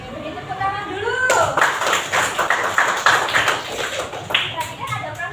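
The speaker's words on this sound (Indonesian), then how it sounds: "Oke, beri tepuk tangan dulu." A school class claps together during a water-cycle lesson. A brisk burst of hand claps lasts a few seconds, with a teacher's voice talking just before and after it.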